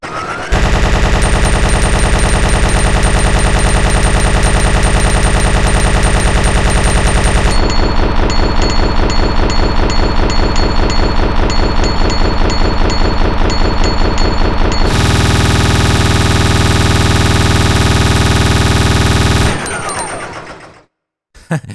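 Claire fires a big, bulky weapon in Resident Evil 2: a loud, relentless, rapid-fire stream of shots in continuous sections with shifting tone, cutting off abruptly near the end.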